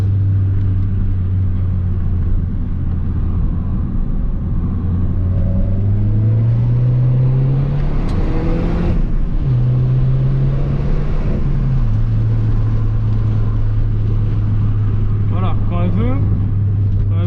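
Peugeot 208 GTI with a 200 HP engine and Akrapovic exhaust revving from idle, the loud close engine note rising and falling through several pulls before settling back to a steady rumble.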